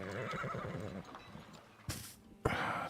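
A horse whinnies in the Farthest Frontier video game, a loud close neigh with wavering pitch, followed by a couple of sharp thumps and hoof clops.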